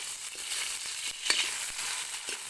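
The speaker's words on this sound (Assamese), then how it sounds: "এইখিনি গোটেই সানমিহলি কৰি এতিয়া মই ভাজিম" Pork with onions sizzles and fries in a pan over a village wood fire, a steady crackling hiss with occasional stirring scrapes, close and alone.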